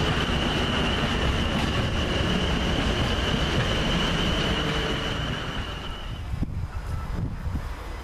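A Class 377 electric train departs Havant station, with a steady loud rolling roar and a high wheel whine held for several seconds, then thinning as the train moves off.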